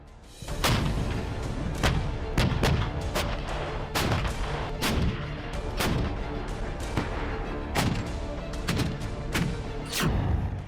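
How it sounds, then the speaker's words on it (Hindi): A 2S7 Pion Soviet self-propelled 203 mm artillery gun firing, with a long series of sharp heavy booms repeating roughly every second, each followed by a short rumbling decay. "2S7 पायोन एक सोवियत ऑटोमेटिक तोप है।"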